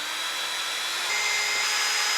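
A power drill bores pilot holes while a frost-free house hydrant is installed on a home exterior, a loud steady whine that rises in pitch partway through, with no talking.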